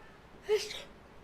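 A single short sneeze in a video game, Blacksad, quick and fairly quiet, with a soft breathy burst and low background hum around it.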